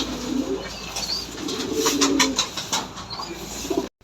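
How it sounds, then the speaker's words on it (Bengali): Pigeons, including red-bordered birds, coo softly inside an indoor pigeon house, low repeated calls with faint rustling and occasional wing movement, no speech. "এখানে দেখতেছেন লাল বর্ডার কবুতর"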